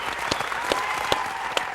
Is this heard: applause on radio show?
yes